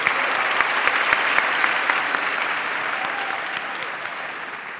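Steady applause from a group of singing students after a cha-cha-cha rhythm exercise in a vocal session, a continuous dense patter of many hands at an even level throughout.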